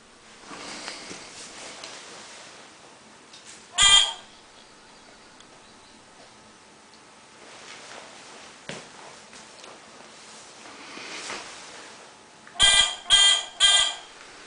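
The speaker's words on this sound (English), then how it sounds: "Three times buzzer is blue." Three quick electronic buzzer beeps from a fischertechnik driving robot, in a rapid cluster near the end, after one earlier single beep and amid faint room noise.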